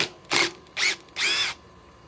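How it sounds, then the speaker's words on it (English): Flex impact driver from Lowe's, the owner's weakest at roughly 1,200 inch-pounds, running on an adapted 18650 cell battery, drives fasteners into an old tree stump in three close, loud hammering bursts, the last one longest, with no talk. "This is the weakest impact driver I own"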